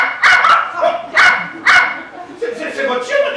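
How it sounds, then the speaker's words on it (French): Behind a hotel counter during a live stage comedy, a dog gives several sharp, close barks, then higher yips and whimpers, with voices mixed in. "C'est votre chien derrière le comptoir?"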